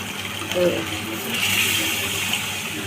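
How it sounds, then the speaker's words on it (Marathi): A glass of water splashes into a pot of spinach curry, making a steady pouring, gushing sound with a faint sizzle underneath, while someone talks over it. "1 ग्लास पाणी टाकलं आहे मी."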